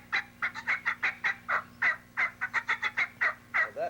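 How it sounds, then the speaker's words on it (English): A turkey hen yelps in rapid, excited bursts, a long run of loud, close calls with brief gaps and a steady low hum underneath. "That's an excited hen."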